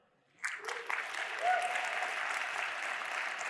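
After a brief silence, a crowd at the CppCon 2022 programming conference bursts into sustained applause that stays steady and fairly loud to the end.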